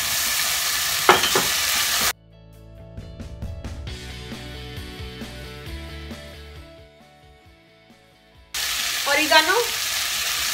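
Chicken hits a pan of frying tomato paste with a loud, close sizzle, broken by a stretch of music before the crackling returns.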